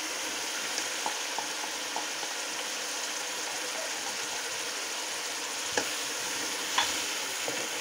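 Yogurt stirred into red chilli and garam masala frying in a pot for beef yakhni pulao, a steady close sizzle with faint scattered scrapes and two sharper clinks of the spoon.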